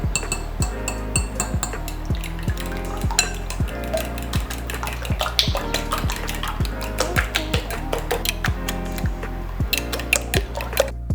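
Eggs for a thick Padang-style omelette are beaten with a utensil against a bowl, a fast, steady run of close clinking strokes that continues without pause.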